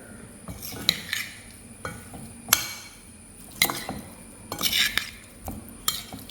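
Tuna fish pickle ingredients with lemon juice are mixed in a bowl, a spoon scraping and clinking against the sides in irregular bursts, close and moderately loud.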